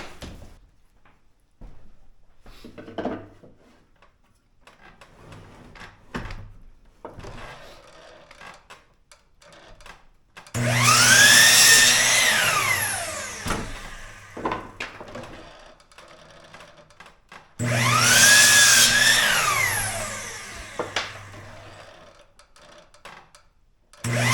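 A power tool trims wood for a homemade wire spool reel in two loud bursts, each a few seconds long with a rising and falling whine. Quieter clicks and handling noises come between them.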